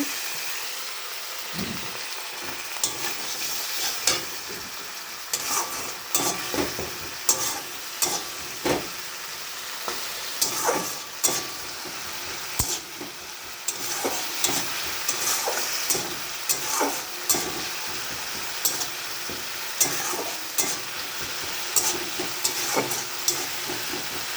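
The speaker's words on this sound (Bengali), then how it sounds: "এবার একটু সামান্য একটু জল দিয়ে নেড়ে নেব" Potatoes frying in a pan with a little water added give a continuous sizzle and hiss, broken by frequent scraping and clattering strokes of a spoon as they are stirred, close and with no talk.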